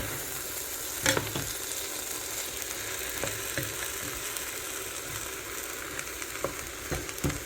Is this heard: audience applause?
no